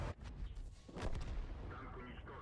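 A tank cannon fires in World of Tanks, a deep booming blast in game audio. A second heavy report follows about a second later, both faint and rumbling under a background of game noise.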